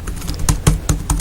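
Keys clatter on a Lenovo Miix 2 keyboard, about half a dozen crisp, evenly spaced taps heard close and alone.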